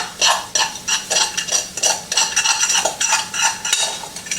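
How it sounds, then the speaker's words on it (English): A fork scrapes and clinks through cooked rice in a pot as butter is stirred in, loud close rhythmic strokes repeating steadily, with no talking. "So you fluff the rice with a fork. We're going to stir in the butter."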